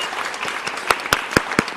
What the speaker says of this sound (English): A round of applause much needed here on that one.